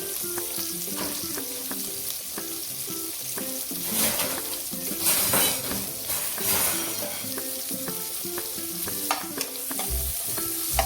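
Chopped onions sizzle in a couple of spoons of oil in a pan, a steady close frying hiss with bursts of louder crackling as they are stirred, under tonal background music.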